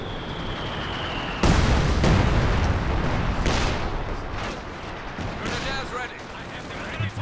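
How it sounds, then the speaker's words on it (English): Heavy mortar shells land in the Company of Heroes 2 video game, a loud close blast followed by further booming impacts and rumbling gunfire layered over a dense battle din. "Some heavy mortar shells landing here as well."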